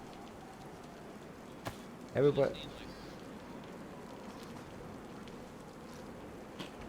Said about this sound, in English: Yeah, I know, raining again.